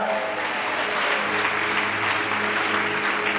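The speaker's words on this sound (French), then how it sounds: "Je voudrais que vous l'acclamiez très fort" A church congregation at a religious gathering applauds and cheers loudly. The clapping is dense and sustained, with a faint murmur of voices underneath.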